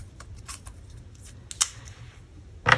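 Scissors snip through stamped cardstock while an image is cut out for a handmade circle easel card, a few crisp close cuts spread across a quiet moment.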